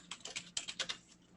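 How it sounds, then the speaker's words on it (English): Rapid, uneven keystrokes on a computer keyboard, about eight clicks in a quick burst, close and fairly quiet, tapering off into faint room tone. "Sorry for the typing"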